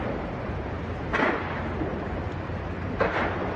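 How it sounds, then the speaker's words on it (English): Explosions burst out of a huge burning warehouse in Redlands as flames race through it, captured on a phone; two sharp booms stand out about two seconds apart over a steady roar of the fire. "Cell phone video captured explosions as flames began racing through this huge Redlands warehouse."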